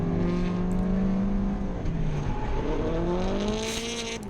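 Ford Mustangs drifting in tandem, one engine revving high and wavering up and down as the throttle is worked, a loud, close, strained whine over rumbling exhaust.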